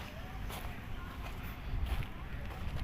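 Steady wind at Manila Bay rumbles and buffets the microphone throughout, a low continuous roar with a few faint higher rustles over it.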